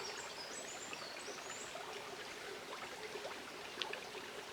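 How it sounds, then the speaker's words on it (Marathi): A steady, quiet rush of a stream flowing through dense forest, continuous and even, with faint birdsong far off and no voices. "आता पाणी जरा वाहत आहे"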